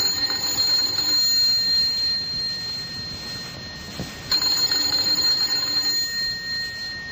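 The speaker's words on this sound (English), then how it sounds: "Let's begin this tale with the ringing of a doorbell." A doorbell ringing as a radio drama sound effect, a shrill metallic electric ring in two sustained bursts separated by a brief pause, clear and close with no voices over it.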